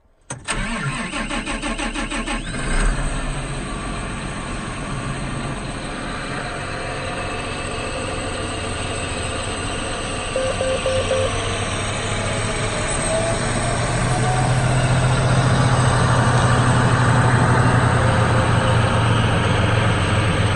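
A John Deere 8245R tractor cold starts on a December day, the starter cranking briefly before the engine catches and settles into a loud, steady diesel idle that swells slightly later on, with no talking.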